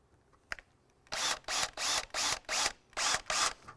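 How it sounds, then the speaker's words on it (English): A drill bites into rusty body metal on a Ford Mustang during rust repair: one short click, then six rapid, evenly spaced bursts of whirring, close and loud. "I'm going to put my drill, my dot spot here."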